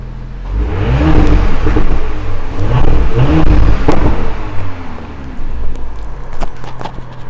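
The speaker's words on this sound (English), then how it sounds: "One of the best features of this car though is the exhaust sound, which when you rev it does sound quite good." A 3.0 TFSI V6 in an Audi SQ5 Tiptronic Quattro revs loudly close by, its exhaust rising and falling through several throttle blips with a deep rumble before settling toward idle.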